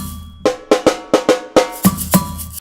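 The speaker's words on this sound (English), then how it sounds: "And the response from the bateria would be 2 hits on the drum." A samba bateria drum pattern rings out close and loud, a run of quick bright strokes followed by two deeper hits that answer as the response.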